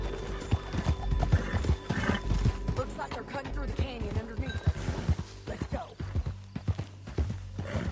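Horse hooves clip-clopping through a video game canyon, with a continuous rhythmic gallop, a whinny and some heavier thuds, close and loud under voices speaking.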